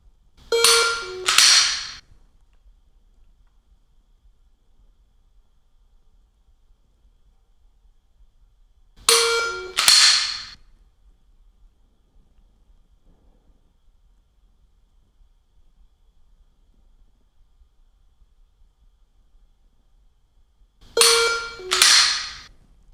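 Dry-fire pistol trigger presses during a Mantis X10 Elite compressed surprise break drill: three pairs of sharp mechanical clicks, well spaced roughly ten seconds apart, crisp and close against near silence.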